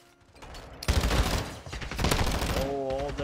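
Call of Duty gunfire in a competitive Bot League match: quiet at first, then dense, loud overlapping automatic bursts that keep rattling to the end, with a voice rising over the shooting in the last moments.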